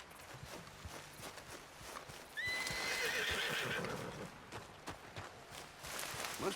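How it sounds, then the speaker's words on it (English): A spooked horse in a western setting whinnies loudly for about a second in the middle, over a steady background of hooves clip-clopping throughout. "What's wrong with this horse?"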